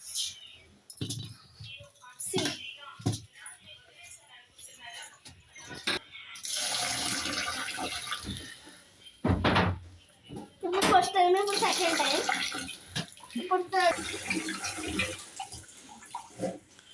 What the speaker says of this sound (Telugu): చాలా వాటర్ ఇట్లా వాష్ చేయాలి.